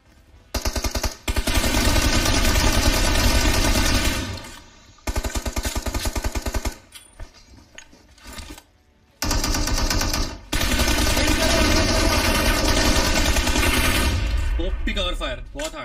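Automatic gunfire in the video game PUBG Mobile rattles in long, loud, rapid bursts separated by short pauses.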